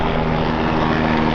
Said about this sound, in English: They still fly helicopters in quarantine?